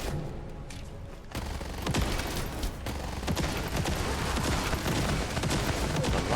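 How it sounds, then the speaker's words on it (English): Dense gunfire and blasts fill a sci-fi shooter battle in The First Descendant, a steady near barrage of rapid shots and booms with no pauses, loud throughout after a brief quieter opening. "A lot of explosions."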